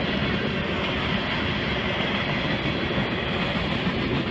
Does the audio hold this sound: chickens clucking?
no